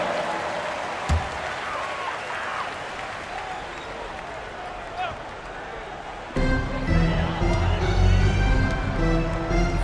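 Arena crowd in the NBA 2K26 basketball game cheering and making noise, a steady roar that swells louder near the end, with an announcer talking over it.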